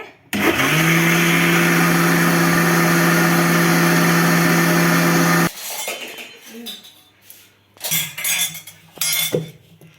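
A mixer grinder blends ridge gourd into green dosa batter, a loud steady motor whine running for about five seconds before it cuts off, followed by clinks and handling of the jar and utensils.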